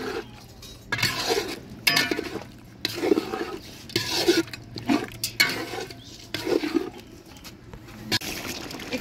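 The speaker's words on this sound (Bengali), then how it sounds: "এখানে আমি মাংস দিয়ে দিলাম। মাংসটা অনেকক্ষণ আমি কষিয়ে নিব।" Meat stirred in a pot over an outdoor cooking fire, with repeated metallic scrapes and clinks of a spoon against the pot in uneven bursts, separated by quieter sizzling gaps.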